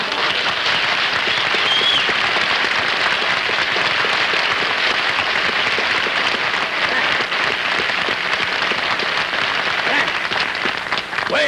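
Loud, sustained applause from a large studio audience greeting Frank Sinatra on a Jimmy Durante television variety show, a dense steady roar of clapping throughout.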